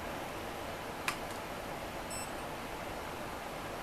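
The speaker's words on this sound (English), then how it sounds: "it does a quiet beep because I quieted down the beep" A faint, brief high-pitched beep, quieted by modification, sounds once beneath a steady hiss, shortly after a soft click of a KVM switch reset button.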